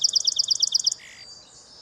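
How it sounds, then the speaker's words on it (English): A song sparrow opens with a fast run of bright, repeated high notes and ends in a short, softer trill, loud and close over faint background hiss. "Here's the titular song of the song sparrow."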